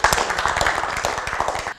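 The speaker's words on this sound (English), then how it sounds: "thank you so much and give you a round of applause" An audience at a sleep-and-stress talk gives a round of applause: dense, steady clapping from many hands, close and fairly loud, running evenly for nearly two seconds before cutting off.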